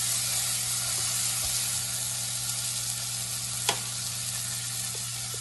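Vegan burgers sizzle steadily in a frying pan, a constant close hiss and crackle with one brief sharper pop partway through and no talking.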